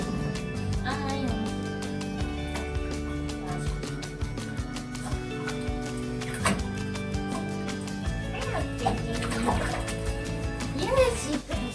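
Water rinsing in a bathtub, running steadily and splashing at moderate level, with a voice and other talk faintly over it.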